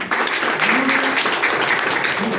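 An audience at a company event applauds the managing director, a dense, steady burst of clapping throughout.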